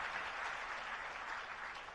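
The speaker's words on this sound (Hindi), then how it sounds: "सम्मान में तालियां जरूर बजाया करो" An audience at a religious discourse claps steadily throughout, a soft, even wash of applause heard from a distance at low volume.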